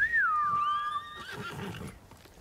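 A horse neighs in the video game Ghost of Tsushima, one clear descending whinny that wavers and fades, followed by soft hoof clops and rustling at moderate distance.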